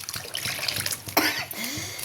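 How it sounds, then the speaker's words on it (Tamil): Water is poured into a pot of omavalli rasam, making a brief, soft trickle and splash, with a slightly louder gush near the end. "இன்னும் கொஞ்சம் தண்ணி ஊற்றிக்கிடுவோமே"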